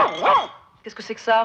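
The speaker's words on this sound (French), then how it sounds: "C'est mon chien." A dog gives wavering, whiny barks up close, then a person asks a short question.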